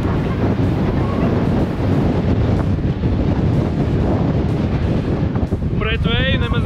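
Strong gusting wind roars steadily into the microphone on a Swiss mountain pass, a dense continuous rumble that buffets throughout, with a faint warbling tone near the end.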